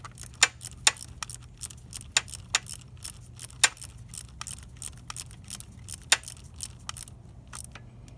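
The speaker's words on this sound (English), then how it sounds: "Let's do the socket wrench this time because I have plenty of clearance." A ratcheting socket wrench clicks on the 15-tooth sprocket nut of a Honda CB300R motorcycle, giving a close, crisp series of irregular clicks and ratchet strokes with no talk.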